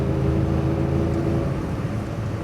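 A 1973 Porsche 911S engine pulls hard nearby, its low growl rising through fourth and fifth gears with a smooth, throaty drone and no one speaking.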